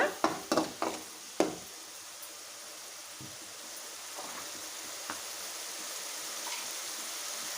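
Coconut paste fries in a pan for Rayalaseema-style boti curry; a few sharp utensil clanks and scrapes open, then a steady close sizzle and hiss carries on alone.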